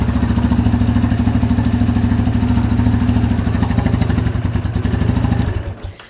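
A Yamaha Warrior 350 ATV engine running at close range, a loud, steady, fast-thumping single-cylinder idle that holds even before cutting off abruptly near the end.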